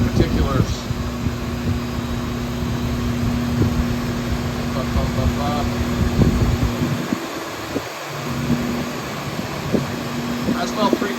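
A new 1350-series constant-velocity front driveshaft on an LS-swapped International with a 205 transfer case, spinning at about 3,000 RPM, gives a steady mechanical hum with a faint whir, broken by a brief dip, while someone talks over it.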